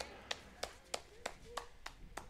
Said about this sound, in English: A lot of Regensburg fans are here too, so you're getting reactions after every pitch